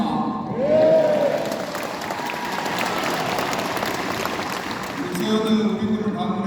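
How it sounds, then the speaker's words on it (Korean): Crowd applause and cheering at a governor's town-hall meeting with residents, a sustained loud wash of clapping with shouts rising over it, a voice audible in the mix near the start and end. "여기 계신 분들이 이제 2배로 함성과 박수를 크게 쳐주셔야 됩니다"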